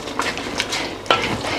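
Ginger and garlic stirred into a pot of lamb biryani in progress, a low steady frying hiss under scraping spoon strokes with a sharper clink near the end, no talking.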